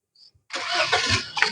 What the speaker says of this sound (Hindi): सो भाई पहले इस इंजन को हम स्टार्ट कर लेते हैं।